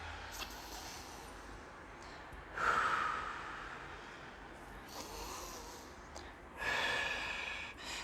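Slow deep breaths drawn in and let out during a seated relaxation exercise, three airy swells spaced a few seconds apart, close and soft with quiet pauses between them.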